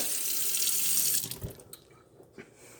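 Water from a tap pours steadily into a measuring cup for a green smoothie, a close rushing stream that stops partway through and leaves a few small drips and clinks.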